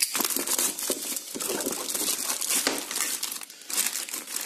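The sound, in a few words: unwrapping bubble wrap packaging with a blade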